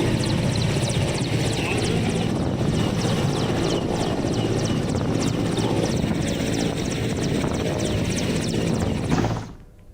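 Helicopter flying a 16-member polling staff team back to Gariaband after an election, its loud, steady rotor and engine roar filling the whole stretch under a voice, then cutting off abruptly near the end.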